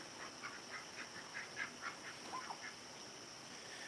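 Ducks quack faintly in a short, repeated series of calls over a steady background hiss.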